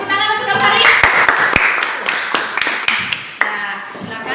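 Applause and scattered clapping for the Kalvari discussion group at a church Bible-study session, a few sharp claps standing out over a crowd's murmur and voices.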